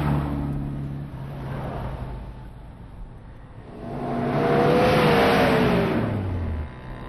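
A car engine idles, then swells into a loud, rising rev around the middle as the vehicle pulls away, before easing off toward the end.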